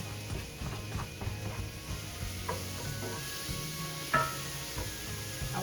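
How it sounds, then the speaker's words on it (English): Seasoning and a fish head with fresh thyme and onion sizzle quietly in a hot pan, a soft steady crackle with a low hum beneath and occasional light clinks of stirring. "turn up the heat and just let it sizzle for a bit."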